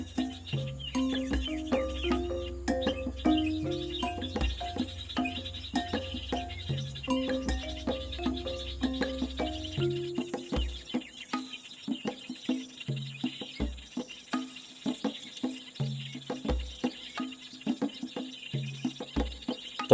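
Birds call over and over in short, clucking chirps at a steady rhythm, fairly close, with soft low thumps between the calls.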